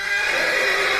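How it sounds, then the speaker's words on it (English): A horse neighing sound effect plays as one sustained, loud, bright whinny that fills the whole moment without any talk. "it's the sound of a horse neighing"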